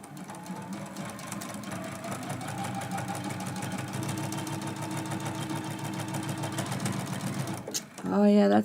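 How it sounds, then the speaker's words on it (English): A sewing machine stitches down a Christmas quilt-as-you-go block, running as a steady, close, rapid mechanical chatter for several seconds before stopping abruptly, followed by a short burst of talking. "We're going to sew this down."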